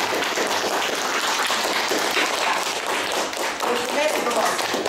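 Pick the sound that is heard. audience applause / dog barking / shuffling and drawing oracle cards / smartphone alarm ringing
audience applause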